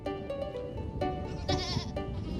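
A goat bleats on a deer farm, giving a few quiet, wavering calls over a steady low background hum.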